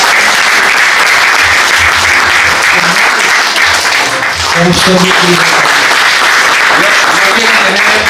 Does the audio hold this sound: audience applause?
yes